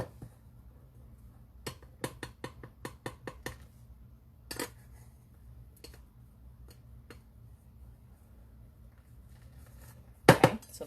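A table knife scraping and tapping against a measuring cup while leveling off flour for a pumpkin gooey butter cake, giving a run of sharp close clicks and taps early on, a few scattered knocks after, and a louder clatter near the end.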